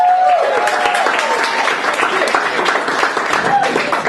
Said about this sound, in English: Give a big hand to Danny Elliot